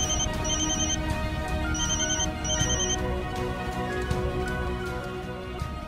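A mobile phone rings over a steady background hum, its electronic tone sounding in several short repeated bursts of beeps through the middle of the clip, with no one talking.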